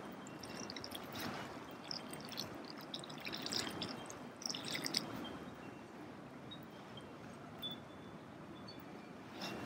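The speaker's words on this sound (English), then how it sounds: "Then, I always water them in," Water poured from above onto freshly planted asparagus roots set over a soil mound, a steady soft splashing and trickling that runs for about ten seconds at moderate, close range with no talking.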